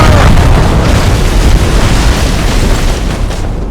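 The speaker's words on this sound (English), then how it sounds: "Cannon fire. Deep within the fog." Cannon fire deep within fog in the video game Assassin's Creed Rogue, heard as a loud, continuous rumbling boom that fills the whole stretch with dense, heavy low-end roar before easing slightly at the end.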